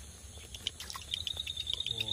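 Ryukyu Kajika frogs call during breeding season with a run of faint, high, bird-like chirps repeating in a quick rhythm over soft outdoor background noise.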